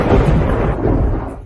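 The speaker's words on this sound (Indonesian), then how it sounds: "mengapa tiba-tiba ada guntur?" A single deep rumble of thunder rolls in loud and close, then fades away over about a second and a half, with no voices over it.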